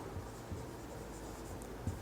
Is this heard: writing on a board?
yes